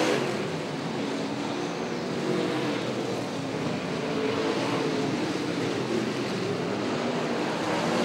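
Race car engines roaring at Sydney Speedway during an A-Main, a steady, loud, continuous engine drone with broadband crowd-like wash throughout, no speech.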